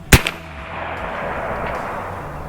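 A single loud, sharp report from an air-powered 12 gauge shotgun firing real buckshot shells, close up, with a short echo after it and then a quiet hiss of the surroundings.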